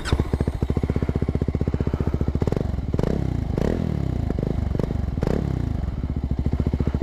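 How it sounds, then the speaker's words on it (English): A Voge 300R single-cylinder motorcycle of 292.4 cc cranks and fires, then settles into a loud, close, evenly thumping idle, with several quick throttle blips partway through. "let's start the bike and see how she sounds"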